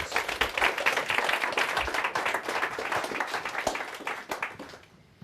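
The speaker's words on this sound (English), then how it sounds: "Give Anita a big round of applause." Audience applause for a volunteer at a live mentalism stage show: dense, steady clapping from a full crowd that keeps going for about five seconds, then thins and fades out at the end.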